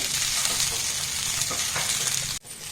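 Rice being stirred in a pan with fried paneer, soybean chunks, cashews and raisins for a vegetable masala tehri, giving a steady close scraping and sizzling texture that cuts out abruptly near the end.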